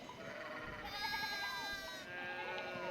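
Sheep bleating in the video game Pentiment, several drawn-out, wavering bleats overlapping against a soft, steady game backdrop, fairly close and clear with no talking.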